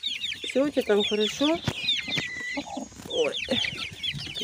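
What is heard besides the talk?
broody hen clucking over her eggs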